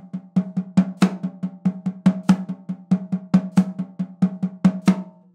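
A six stroke roll played on a drum kit as a fast triplet fill with accents on the first right and last left, heard as a steady run of crisp, close snare strokes with louder accented hits, no talking.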